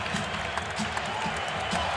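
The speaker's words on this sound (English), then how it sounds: "65-53, and the crowd on their feet in Chicago." A Chicago basketball crowd at a Bulls home game roars on its feet, a loud, steady, dense wash of cheering that holds for the whole stretch without letting up.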